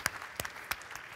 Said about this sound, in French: On applaudit le chef une dernière fois.